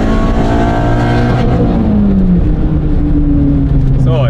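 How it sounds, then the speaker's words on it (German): A front-wheel-drive car pulls away at full throttle, its engine note rising steadily through the revs and then dropping at a gear change before climbing again. The engine is loud and close, and a voice can be heard faintly over it. "Also ich fahre wieder normal los und Vollgas."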